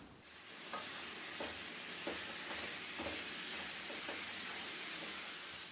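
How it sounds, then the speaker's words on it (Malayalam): Chicken frying with onions and pepper in a pan for a Kerala-style chicken stew, a steady close sizzle with soft periodic stirring scrapes and no talking. "ഇനി ചിക്കൻ്റെ കളറൊക്കെ ഒന്ന് മാറി വരുന്നവരെ 4 മിനിറ്റോളം മീഡിയം ടു ഹൈ ഫ്ലെയിമിൽ വെച്ചിട്ട് നല്ലപോലെ ഒന്ന് ഇളക്കി കൊടുക്കാം"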